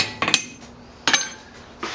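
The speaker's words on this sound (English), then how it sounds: "We use half hammer face blows now when making punches" Three sharp metallic strikes of a hammer's half face on a punch resting on a flat anvil die, ringing briefly, spaced unevenly at close range with no voices.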